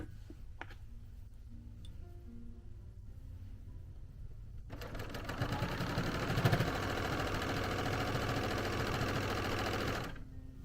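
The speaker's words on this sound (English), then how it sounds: "highly suggest going ahead and serging that together first" A serger sewing machine stitching sweatshirt fabric starts abruptly after a quiet stretch with faint handling sounds, then runs as a steady, loud mechanical whir for about five seconds before stopping.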